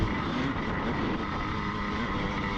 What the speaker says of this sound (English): just revving the heck out of that KX250